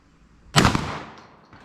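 A single sharp gunshot from a scoped rifle cracks loudly and close, then a short echoing tail decays over about a second.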